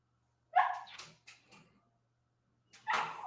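A pet dog barks indoors in a few separate bursts: a loud bark followed by quick yips, a pause, then another strong bark close by.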